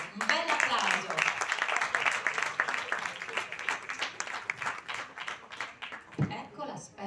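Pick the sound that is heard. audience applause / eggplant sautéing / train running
audience applause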